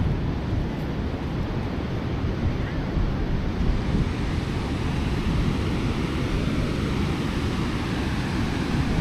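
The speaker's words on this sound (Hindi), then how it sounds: "बड़ी तेज़ लहरें हैं यार।" Loud, continuous surf roars as strong waves break on a beach in Bali, mixed with wind noise, with no pauses throughout.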